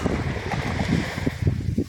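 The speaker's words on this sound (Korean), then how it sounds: "아이고 이 바람을 어떻게 이기냐고 이거를" Strong wind blows steadily across a sea shore near a small island, a continuous roaring rush with gusty swells that stays loud throughout.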